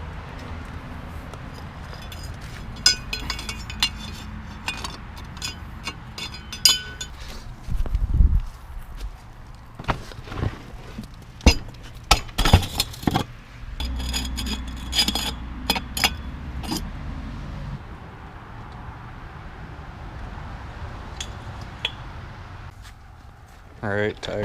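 Refitting the tire on a 1984 Honda ATC 200ES three-wheeler in a garage: scattered clanks, knocks and scrapes of metal and rubber, some louder thumps midway, with someone talking throughout.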